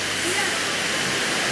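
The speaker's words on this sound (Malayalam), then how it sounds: "നല്ല മഴയാട്ടോ" Heavy rain pours down in a dense, constant roar, loud and close like rushing water, while a voice speaks faintly beneath it.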